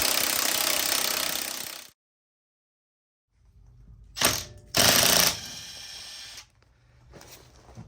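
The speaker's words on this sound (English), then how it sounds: "Now I'm going to use an impact wrench anyways" An impact wrench loosens a wheel nut on a second-generation Ford Explorer in short, loud, rattling bursts, separated by a quiet gap and lower mechanical noise.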